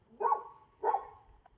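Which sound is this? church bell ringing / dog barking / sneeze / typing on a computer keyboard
dog barking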